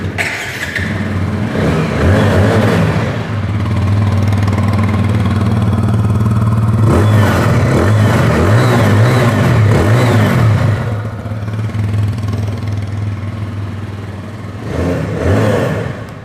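A 2022 TVS Apache motorcycle's engine idles with a loud, close exhaust note, then is revved in rising and falling bursts, with a further short rev near the end.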